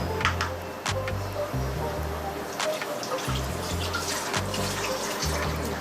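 Water runs from a tap for hand washing, a steady splashing stream with occasional sharper splashes. Faint background music plays beneath it.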